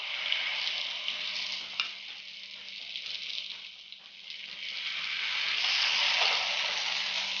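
Brinjal slices fry in hot oil in a pan with a steady, close sizzle, rising slightly louder toward the end, and a faint utensil clink partway through.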